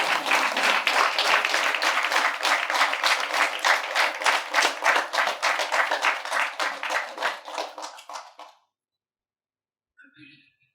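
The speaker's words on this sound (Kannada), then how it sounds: "ಸೊ ನನಗೆ ಒಂದು ಸಲ ಜೋರಾಗಿ ಚಪ್ಪಾಳೆ ತಟ್ಟಬೇಕು" Loud, rhythmic clapping from an audience at a meditation anniversary program, a steady beat of many hands that fades over about eight seconds into silence, followed by a faint, brief sound near the end.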